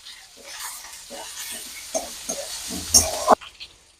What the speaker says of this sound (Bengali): এবার টমেটো কুচিগুলো দিয়ে দিচ্ছি